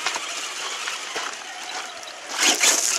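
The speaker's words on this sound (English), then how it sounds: "It's raining pretty good." Rain falling steadily on a backyard dirt track, a continuous close hiss of drops that swells louder near the end.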